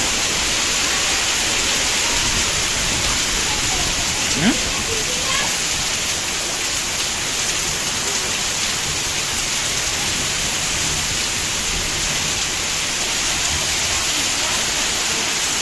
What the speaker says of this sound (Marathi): पुन्हा एकदा कोकणामध्ये मुसळधार पाऊस